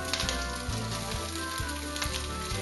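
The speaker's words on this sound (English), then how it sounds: "Hear that sizzle." Lardons sizzle and spit in olive oil in a large pan, a steady close-up frying hiss with no voices, heard while starting a boeuf bourguignon.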